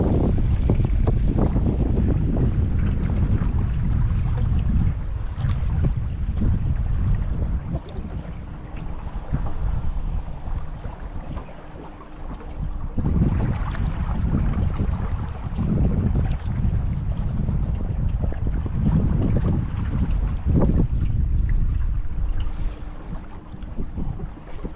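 Strong wind buffets the microphone on a boat ride at Hoover Dam, a continuous loud rumbling roar over the boat's motion on choppy water.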